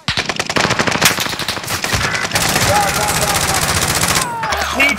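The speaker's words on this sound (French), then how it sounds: "Ça a tiré sur nous." Rapid automatic gunfire in the Call of Duty Warzone battle royale game, dense bursts of fast shots crackling almost continuously and loudly, with a brief lull near the end.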